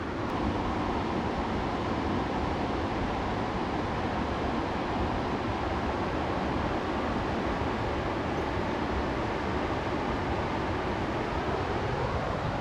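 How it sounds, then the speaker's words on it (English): Rushing water at a roadside campsite in Kings Canyon National Park pours in a steady, dense broadband roar that stays constant and fairly loud for the whole stretch, with no voices. "I love the sound of the rushing water."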